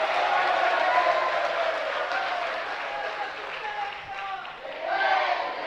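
A seated audience at a Jain sermon claps steadily and fairly loudly, the sustained applause thinning briefly near the end before swelling again.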